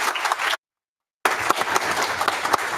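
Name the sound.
applause at a town council meeting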